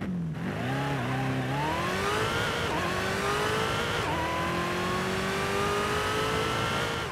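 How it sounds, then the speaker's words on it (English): A Jaguar F-Type SVR's 5-litre engine revs loud and close in Forza Horizon 5, a brief dip then rising pitch in climbing surges with a couple of shifts, sustained throughout. "take a listen to that 5-litre engine"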